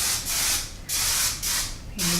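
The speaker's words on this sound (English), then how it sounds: "use a little spray" Hair spray misted onto curls in four quick close hisses, each lasting about half a second with short gaps between, loud and near, ending with a faint tonal hum.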